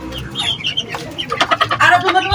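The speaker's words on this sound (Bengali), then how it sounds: "ফার্মের মুরগি।" Farm chickens cluck close by in short, uneven bursts that grow busier and louder toward the end.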